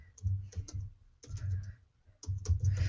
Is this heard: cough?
no